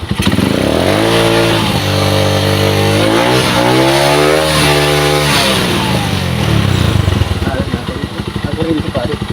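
A Skygo motorcycle engine with a misfire revs loudly and unevenly, sputtering and popping with backfires, steady close-up roar throughout the clip.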